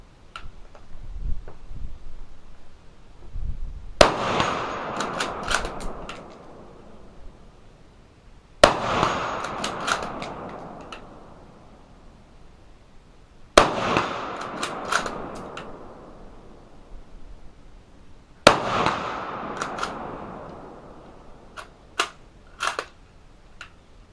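Four single shots from a CZ 527 carbine in 7.62x39, fired freehand with open sights at a half-inch steel plate about 100 yards off, each a sharp crack followed by a fading echo and a faint metallic ping, spaced roughly five seconds apart.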